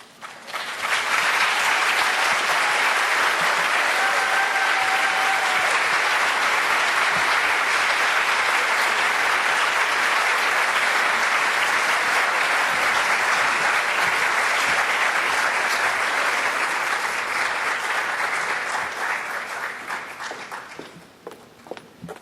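Sustained applause from an audience at an academic awards ceremony, a dense, steady clapping that holds for about twenty seconds before fading out at the end.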